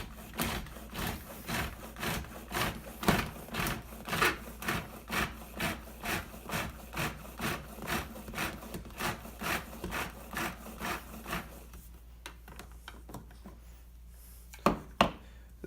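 A hand-cranked Progressive herb and veggie chopper churns tomatoes and avocado for guacamole, giving a steady series of rhythmic whirring grinds, roughly two per second, close up before stopping with a couple of clicks.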